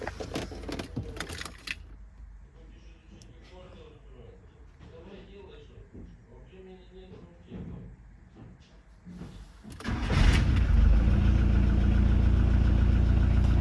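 A Volkswagen Transporter T4 with a 1.9 ABL engine cranks and starts, then settles into a loud, steady, close idle after quieter clicks and handling noises, with someone talking beforehand.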